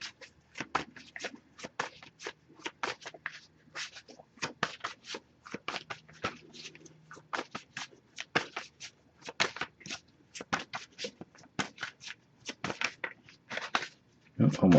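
Tarot cards are shuffled in a long run of quick, crisp riffling flutters and taps, close and moderately quiet, with brief pauses between bursts.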